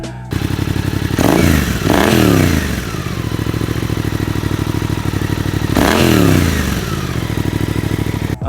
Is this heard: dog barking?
no